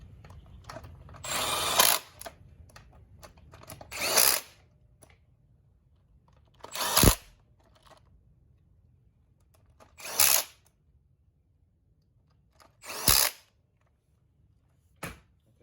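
A power tool tightens bolts during a cam install on a 2020 Harley-Davidson Road Glide with an M8 engine and S&S 475 cam, sounding in five short whirring bursts separated by quiet pauses, plus faint clicks.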